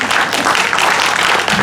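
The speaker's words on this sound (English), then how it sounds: "Round of applause, you can clap now." An audience at an academic lecture gives a guest speaker a round of applause, dense steady clapping from a room full of people, loud and sustained for the whole short stretch.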